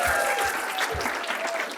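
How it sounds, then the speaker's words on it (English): Applause from an audience at a live comedy show in Marana, Arizona, a busy spread of clapping with a few low thumps and a voice talking briefly underneath. "how about a round of applause?"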